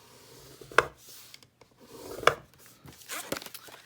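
Folded paper being scored for a treat holder, heard as two brisk, close scraping strokes separated by a quiet pause, followed by a softer rustle of the paper being handled.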